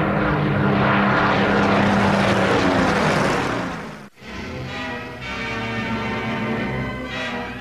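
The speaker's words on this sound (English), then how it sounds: "Now the young pilots of Mitchell's Spitfires would have to fight for their lives." A Spitfire fighter's propeller engine roars loudly past in flight, swelling and then dropping away abruptly before a steady droning engine returns, with no speech over it.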